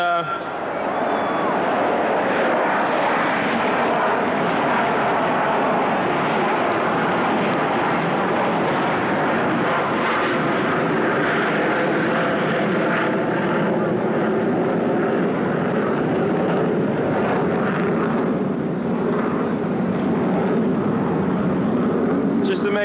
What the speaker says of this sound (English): just to make sure we didn't forget about the airplanes